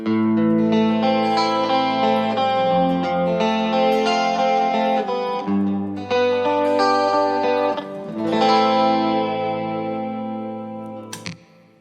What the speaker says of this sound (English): you can get nice clean tones with this guitar